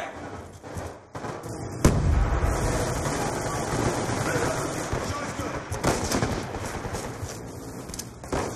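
In a Black Ops 2 match, a frag grenade goes off in a sharp, loud blast followed by a rumbling tail, with scattered gunfire and busy battle noise continuing afterward.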